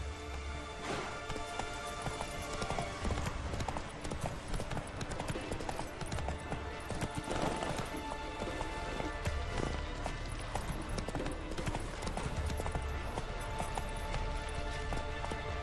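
A horse gallops in Witcher 3, with fast, continuous hoofbeats close up and constant throughout. Ambient game noise sits underneath, and no one talks.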